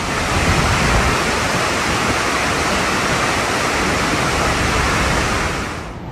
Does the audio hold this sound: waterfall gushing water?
yes